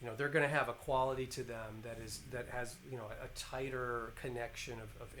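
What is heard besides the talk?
No everyday noise stands out behind the speech.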